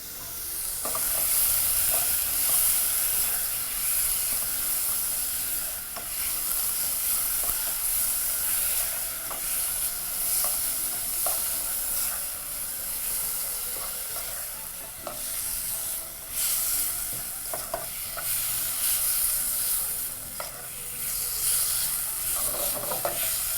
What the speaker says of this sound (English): While continuing to brown your meat, proceed to add your stock cubes.